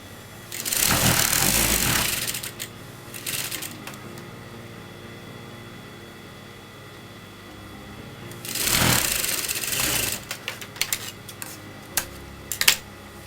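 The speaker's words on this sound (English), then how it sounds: "So then I'm going to sew this to the next side of the fabric" A sewing machine stitches kameez fabric in two bursts of rapid mechanical whirring, each about two seconds long, separated by a short pause and quiet handling noises.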